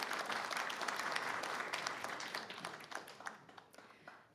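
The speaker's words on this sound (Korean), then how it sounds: "큰 박수 부탁드립니다." Broad audience applause at the 103rd anniversary ceremony for the founding of the Korean Provisional Government, dense clapping that gradually thins out and becomes more scattered toward the end.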